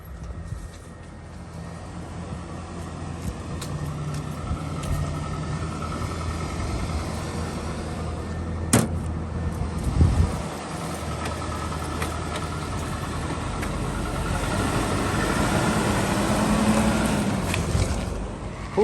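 A $350 Ford Ranger pickup truck drives along, its engine and road rumble steady and moderately loud throughout, with a brief clunk near the middle and no talking.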